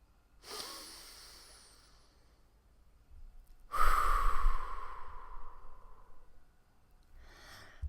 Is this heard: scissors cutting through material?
no